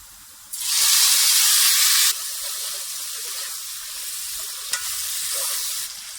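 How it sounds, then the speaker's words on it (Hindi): Chopped tomatoes hit browned onions in hot oil with a sudden loud sizzle that eases into steady frying hiss, with a clink of stirring near the end. "इसमें मैं अब टमाटर डालूंगी।"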